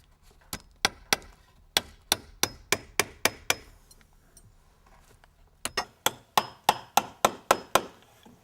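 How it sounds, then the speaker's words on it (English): A staple gun firing into a membrane over a wooden batten during building insulation work, with sharp, close clacks in two evenly spaced runs of about nine each, separated by a short pause. "staple it every 5 centimeters to the batten"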